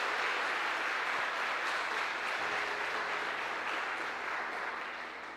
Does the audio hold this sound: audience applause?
yes